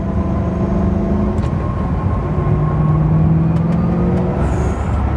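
A 2006 Ford GT's supercharged V8 hums and drones steadily nearby, its pitch rising slightly as it pulls, with a deep rumbling undertone.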